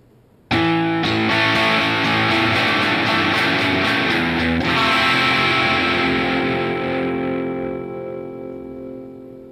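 Electric guitar plays the bridge of a song, with a loud, distorted, effects-heavy tone; several chords are struck in succession and held, then slowly ring out and fade.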